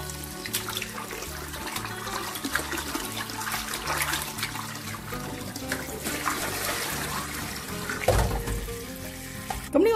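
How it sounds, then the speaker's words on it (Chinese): Tap water runs steadily over pickled mustard green leaves being spread open and rinsed in a sink, a continuous splashing rush with shifting tone as the leaves are handled, close and fairly loud. "呢啲咸酸菜嘅叶咧，就摊开佢洗干净"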